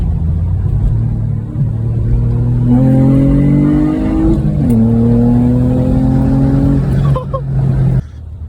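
A Toyota Celica V6 engine revs up close and loud. Several rising pulls climb in pitch and then fall back over a steady idle, and the engine cuts off abruptly at the end.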